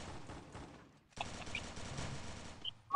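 Gunfire in the battle game Free Fire, with a muffled rapid burst of shots, a brief silence, then more sustained firing, all fairly quiet and with no one speaking.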